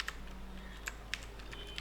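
Keyboard shortcuts typed on a computer keyboard, a handful of sparse, crisp key clicks spaced irregularly over a quiet steady hum.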